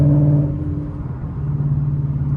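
Inside the cabin of a 2018 Mustang GT Premium coupe, the V8 drones low and steady while the car accelerates gently, a deep engine hum rising a little in the middle and holding to the end.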